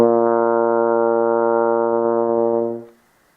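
A single sustained brass note with a clean, tongued attack from behind the teeth, held steady and loud for nearly three seconds before cutting off into silence.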